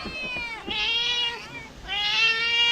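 A house cat meows repeatedly in long, drawn-out cries, close and clear, with two main calls and little else around it in a family home.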